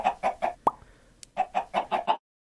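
Chickens cluck in short repeated bursts, close and fairly loud, with a brief plop-like knock and a small high squeak in a gap, then sudden silence.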